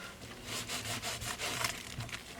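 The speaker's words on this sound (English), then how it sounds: "now I'm just going to rub over it just with a dry rag just to get any excess off" A dry rag rubbed over a waxed mixed-media art journal cover gives a soft, rhythmic scrubbing, several quick back-and-forth strokes close by with no voices.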